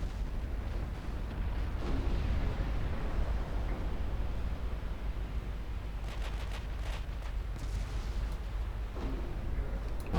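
Battlecruiser big guns fire during a naval battle in Ultimate Admiral Dreadnoughts, heard as a continuous rumbling barrage with deep booms and a cluster of sharper cracking bursts later on.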